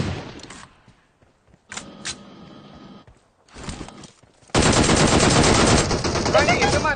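Bursts of rapid automatic gunfire from a shooter video game, first in short separated volleys, then a loud sustained stream of shots near the end, with a little talk mixed in.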